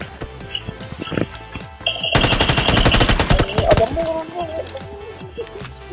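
Rapid automatic gunfire in the PUBG video game, a dense burst of shots lasting about two seconds after scattered single clicks, with game sounds and players talking around it.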